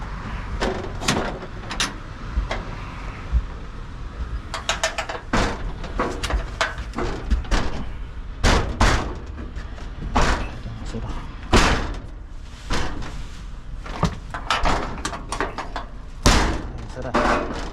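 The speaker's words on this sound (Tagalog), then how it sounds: "Sara na natin tong pinto." A door is pushed and banged repeatedly in a storeroom, a long run of sharp slams and thuds with rattling between them, while people talk throughout.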